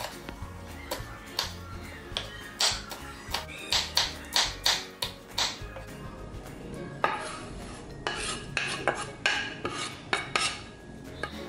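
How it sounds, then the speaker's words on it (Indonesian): A knife chops bird's eye chilies on a cutting board for an enoki sambal matah, giving a steady run of sharp, close taps against the board, with a short pause midway before the chopping resumes. "Lalu aku potong juga cabai rawitnya."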